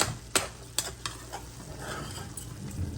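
Dried fish (shutki) stirred and fried in a pan, a soft steady sizzle broken by several sharp spatula scrapes and knocks early on, close and without talk.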